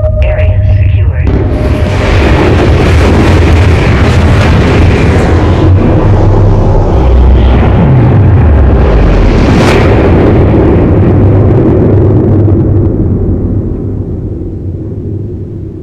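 A hostile MCC spaceship explodes in the video game Dust 514 with a loud, close, broad roaring blast that rumbles on for many seconds before slowly fading out.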